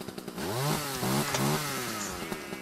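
A chainsaw in a modded Minecraft game revs steadily, its engine pitch rising and falling in repeated sweeps, fairly close and continuous with no talking.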